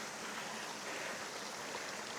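Water runs down a muddy hiking track in New Zealand's Ruahine Ranges like a creek with a small waterfall, giving a faint, steady broadband rush with no breaks.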